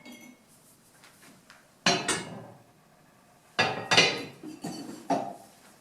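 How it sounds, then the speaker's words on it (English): Metal caps being unscrewed and lifted off a manual tire changer, heard as a few sharp clanks and clinks in two clusters against near silence. "you unscrew these caps"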